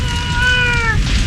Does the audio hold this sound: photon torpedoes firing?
no